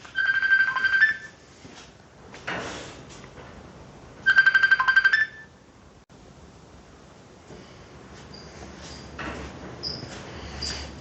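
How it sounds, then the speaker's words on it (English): A phone rings with an incoming call in two loud tonal bursts of electronic ringtone, the second about four seconds after the first, with quieter background noise between and after. "Someone's trying to call me."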